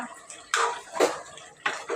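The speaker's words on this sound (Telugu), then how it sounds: "ఇప్పుడైతే తగినన్ని నీళ్ళు పోసేస్తా" Water poured into a pot of mutton curry being cooked at home with ginger-garlic paste, heard as a few short splashing pours in bursts, fairly close and alone.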